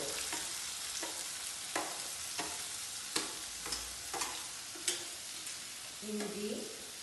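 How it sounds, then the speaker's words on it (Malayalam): Onion sautés with ginger and green chilli in hot oil after cumin for an aloo porotta filling: a soft continuous sizzle broken by regular scraping stirs of a spoon against the pan. "ജീരകം പൊട്ടിക്കഴിഞ്ഞ് അപ്പൊ ഇനി സവാള ഇടുന്നത്,"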